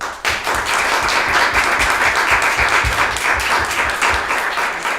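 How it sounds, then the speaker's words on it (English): A round of applause for the audience and panel at the close of a political discussion event, a full steady burst of many people clapping that starts sharply and holds evenly. "let's give the audience, the panel, a round of applause"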